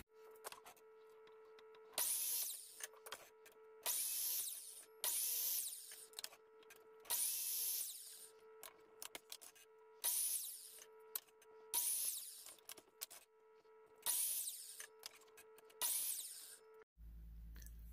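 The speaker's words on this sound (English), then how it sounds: "let's mark these all up for 15s and get over to the miter saw." A miter saw cuts 15-degree angles in scrap boards for a birdhouse: about eight loud cutting bursts of a couple of seconds each, with a steady motor hum running between them.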